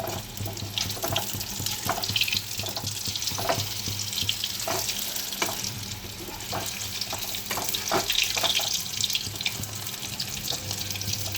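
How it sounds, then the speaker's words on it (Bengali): Potato chops (aloo chop) fry in hot oil with a steady crackling sizzle and scattered pops, close and continuous throughout with no talking. "ভাজা হচ্ছে"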